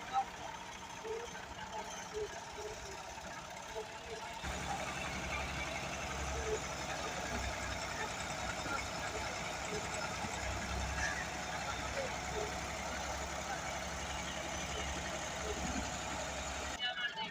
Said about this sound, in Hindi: मैसी फर्गूसन 260 ट्रैक्टर है, 18 फुट ट्राला है